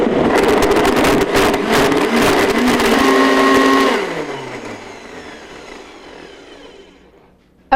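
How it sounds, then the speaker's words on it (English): A blender whirring through thick BBQ meatball sauce, loud and steady, then winding down with a falling pitch until it stops. "Then we're going to blend this until it's nice and thick and creamy."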